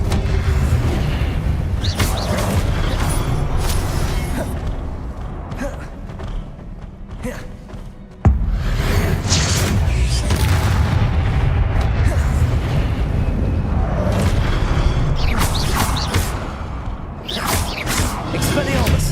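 Confringo explosion spells boom in the video game Hogwarts Legacy, dense loud blasts and rumbling over continuous game noise, with a sharp crack near the middle and a voice calling out spells.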